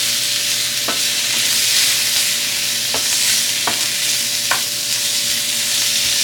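Meat and peppers browning in a skillet give off a steady, close sizzle, broken by a few sharp scraping clicks as the food is stirred, with no talking.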